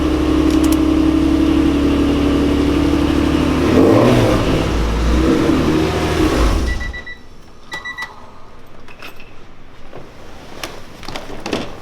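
An Acura NSX sports car engine revs loudly and steadily for several seconds, then cuts out, leaving quieter mechanical clicks and faint beeps.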